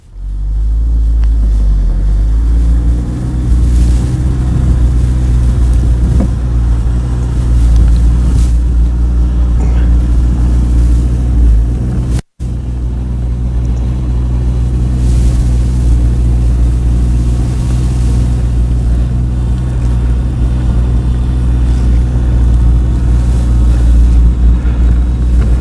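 A Chevrolet Corvette C8 creeps through a full-lock turning circle with the wheel turned all the way left, its engine a steady, loud low rumble throughout, with one brief dropout partway through.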